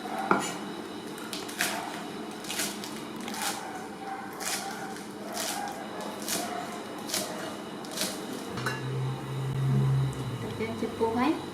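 A knife chops ingredients for Khmer tom yum into small pieces on a board. Crisp, regularly spaced strikes come up close while a voice talks over them, and a low clatter of kitchenware follows near the end.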